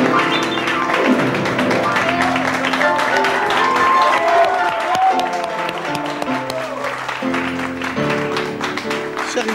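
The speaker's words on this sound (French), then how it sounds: "Je vous demande de lui accorder les applaudissements qu'elle mérite" A studio audience at a French variety television show applauds, loud dense clapping that carries steadily all the way through with music playing underneath.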